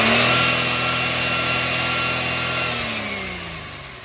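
A 2018 Maruti Suzuki Wagon R petrol/CNG car engine held at raised revs gives a steady, loud, close droning hum that eases down slightly toward the end, with no voices.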